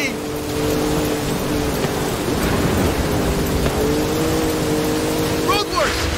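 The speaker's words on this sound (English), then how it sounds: "Through the heart of the storm." Stormy weather in the Forza Horizon 5 racing game: a steady roar of rain and wind with low rumbling under an engine drone, continuous and loud throughout, with a brief swooping sweep near the end.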